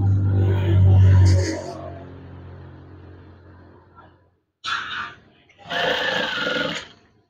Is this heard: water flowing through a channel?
no